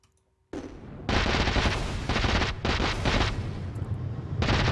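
Dense, loud video game gunfire in sustained bursts of rapid shots with short gaps, close and continuous, with no talking over it.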